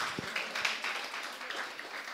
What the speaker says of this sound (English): Big round of applause for Amit, please.